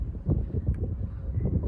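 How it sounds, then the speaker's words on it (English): Low wind rumble pushes against the microphone in uneven gusts, close and fairly loud, with no voices, while cycling in the Derbyshire Dales. "It's a bit windy, but it's keeping me cool."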